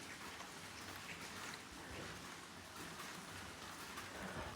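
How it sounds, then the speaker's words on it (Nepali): Rain falls outside in the early morning, a faint, steady hiss of drops with no talking. "बाहिर चाहिँ पानी पर्दैछ"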